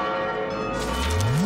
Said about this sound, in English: Bells that ring!